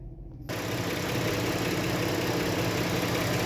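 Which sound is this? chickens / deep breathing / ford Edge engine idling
ford Edge engine idling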